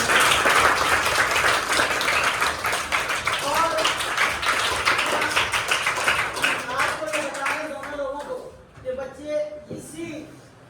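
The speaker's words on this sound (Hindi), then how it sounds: "तो इनके लिए एक और तालियां हो जाती।" Group applause at a school food distribution drive: a dense burst of clapping from many hands that thins out, with voices and light laughter emerging over the fading claps.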